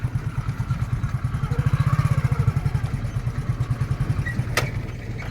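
A tractor engine runs steadily on a village road near farmland, a loud, close, evenly pulsing low chug that holds for the whole stretch with a faint clatter on top.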